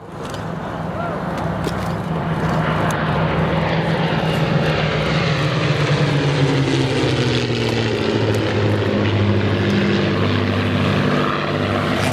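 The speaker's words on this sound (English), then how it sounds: "The Mustangs are now going to pull away" P-51 Mustang propeller fighters fly past at an airshow with a loud, continuous piston-engine drone that shifts in pitch as they pull away.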